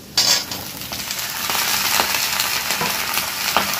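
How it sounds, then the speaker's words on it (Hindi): Potato and eggplant pieces sizzle loudly in a pan for a Bihari aloo baigan adauri curry, a continuous crackling hiss broken by light stirring clinks and scrapes. "और इसको हम अच्छे से हम भूनेंगे 2-3 मिनट के लिए"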